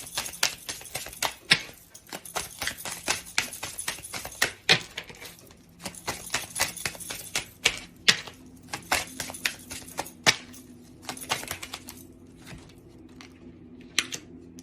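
Oracle cards handled and shuffled by hand, a fast run of crisp papery clicks and flicks in bursts with short pauses, close and fairly quiet, with no talking.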